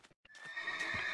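A Minecraft horse gives a loud, sustained whinny after a few short hoof clip-clops, the neigh ringing out clearly and close.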